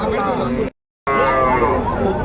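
Jersey calves mooing at a busy weekly cattle market, drawn-out lowing calls over crowd chatter, broken by a brief gap of silence.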